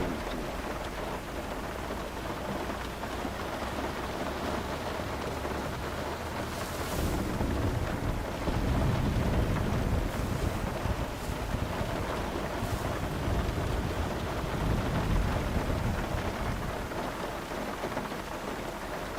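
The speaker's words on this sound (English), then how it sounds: "this is why you don't do anything in BRM5 during the lightning storms" Rain pours steadily during a lightning storm in the game BRM5, with gusty wind roaring over it. A low rumble of thunder swells partway through, and nobody speaks.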